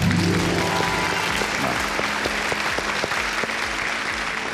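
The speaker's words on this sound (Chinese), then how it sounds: "来，掌声有请。" Studio audience applause on a Chinese TV show, a loud, dense, sustained clapping from a crowd that holds steady throughout.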